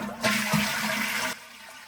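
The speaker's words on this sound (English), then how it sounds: "flush the toilet to drain most of the water from the tank" A toilet flushes to drain its tank during a bidet installation, a loud gurgling rush of water lasting about a second before dropping to a quiet trickle as the tank empties.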